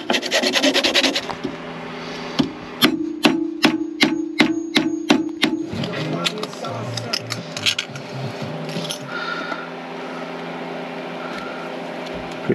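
Metal engine part being filed down by hand aboard a boat, a run of sharp, evenly spaced rasping strokes in the middle, with scraping and knocking around it and faint background hum.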